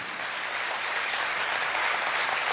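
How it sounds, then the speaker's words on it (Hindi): A crowd applauds steadily, a dense wash of clapping that holds at an even, fairly loud level throughout with no talking. "आपकी तालियां शहादत को शायद बड़ा करें।"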